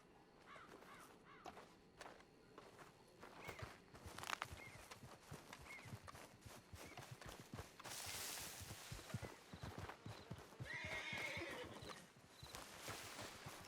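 A horse in the video game Red Dead Online, its hooves clip-clopping steadily throughout with a drawn-out neigh partway through, set against quiet outdoor ambience with faint bird caws.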